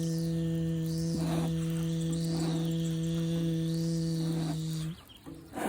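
Bees buzz inside a deep hive, making a steady, close, low droning hum with a smooth tonal quality that holds for several seconds before cutting out near the end.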